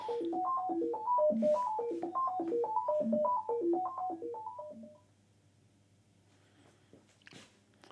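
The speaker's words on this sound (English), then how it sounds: "hearing the sound from the function generator continuously on the loudspeakers" A triangle wave patch from a voltage-controlled function generator plays through loudspeakers as a fast, repeating stepped sequence of pure tones. The pattern runs for about five seconds, then drops to faint residual sound.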